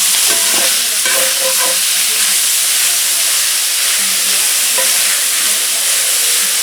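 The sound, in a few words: bacon sizzling in a frying pan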